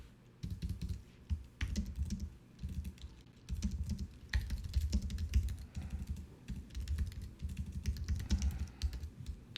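Fast, steady typing on a computer keyboard while writing a factorial program, with dense clicking bursts and short pauses, close and fairly quiet in a calm room.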